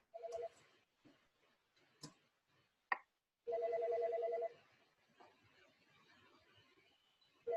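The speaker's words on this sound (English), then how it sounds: "That's my phone telling you to call somebody." A phone rings in a classroom, giving short electronic ring tones in two separate bursts with clicks and handling noises in between and no talking over it.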